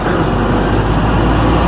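Heavy trucks hauling eucalyptus roar past on a highway at the Maranhão–Pará state border near Itinga, a loud, continuous broadband rumble up close with no talk.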